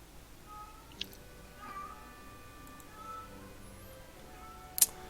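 A cat meows faintly and at some distance in a quiet room, with soft drawn-out cries and a couple of sharp clicks or taps.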